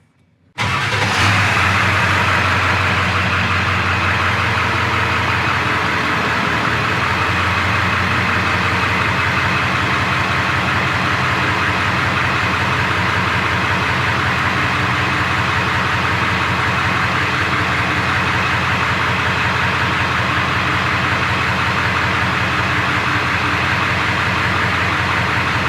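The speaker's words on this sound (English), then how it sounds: "We're going to start the truck back up again and continue cycling from left to right slowly." A 7.3L Power Stroke diesel truck engine cranks and catches after a brief silence, then settles into a steady, loud, close idle that runs unbroken with no voices.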